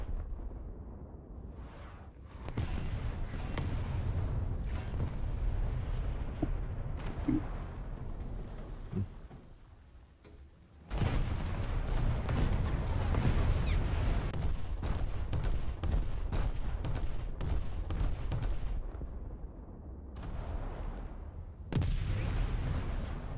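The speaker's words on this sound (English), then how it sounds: "wasn't even the goddamn Cleveland shooting at me" Naval gunfire in World of Warships, a Scharnhorst battleship engaging Cleveland cruisers and a destroyer, with heavy booming salvos and rapid bursts of shots rolling loud and near, pausing briefly before another sustained barrage, with no talk.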